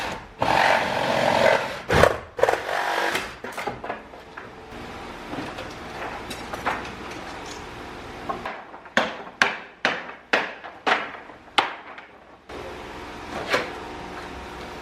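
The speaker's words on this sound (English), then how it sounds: "I think I'm gonna have to sawzall these" Reciprocating saw (Sawzall) cutting through wooden pallet boards, with bursts of harsh buzzing followed by sharp clattering knocks and wood thuds, moderately close with no talk.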